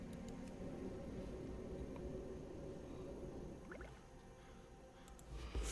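Game drinking sound from a gnome mage sitting to drink conjured water in World of Warcraft, a soft continuous liquid slurping and dripping texture that runs steadily throughout at a low level.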